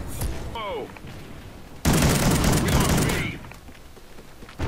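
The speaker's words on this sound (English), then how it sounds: "The slug rounds do not have a range penalty, so you can shoot all the way across the map with these." Slug-round shotgun fire in the Call of Duty Ghosts video game, a dense burst of loud gunshots and booms that fills the middle of the clip, with quieter game sounds and a voice-like tone before and after.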